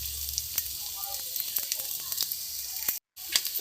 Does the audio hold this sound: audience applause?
no